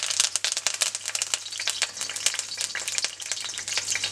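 Curry leaves crackle and spatter as they fry in hot coconut oil for a mutton curry. The close, busy sizzle is dense with sharp pops and stirring rattles, and no one speaks.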